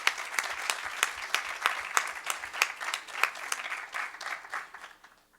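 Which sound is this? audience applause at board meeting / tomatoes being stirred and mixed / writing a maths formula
audience applause at board meeting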